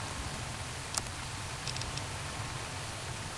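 Steady rain falling at night in Fallout New Vegas, a continuous broad hiss with a few faint drips and ticks standing out, no voices over it.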